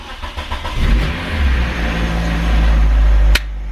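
A Nissan Pulsar engine cranks and catches, then runs with a loud low rumble that builds steadily before cutting off abruptly near the end; no voices.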